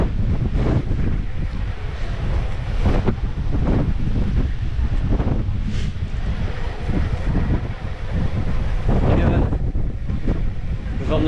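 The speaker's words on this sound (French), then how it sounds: "Le vent de face." Strong headwind buffets the microphone during an electric mountain bike ride on a cross-country trail circuit near Lesaka, producing loud, continuous roaring gusts that rise and fall throughout.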